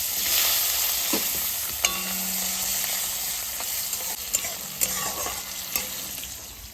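Sesame seeds, garlic and chili sizzle steadily in a hot pan, with a constant bright frying hiss broken by several sharp scrapes and clicks of stirring.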